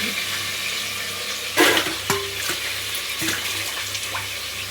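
Fresh coriander leaves frying in oil in a home kitchen pan, giving a steady close sizzle with a few sharp clinks of a spoon stirring against the pan.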